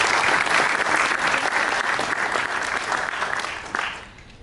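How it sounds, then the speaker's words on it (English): Audience applauding a student who won soccer season MVP at a graduation speech, a dense, lively burst of many hands clapping that fades out at the end. "let's give a round of applause for Julian"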